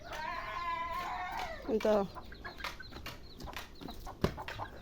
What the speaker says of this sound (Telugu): కోడి పిల్లలు